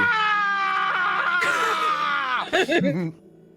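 A person lets out a loud, sustained scream in imitation of an anime hero powering up, a long strained cry that breaks into a few shorter yelps near the end.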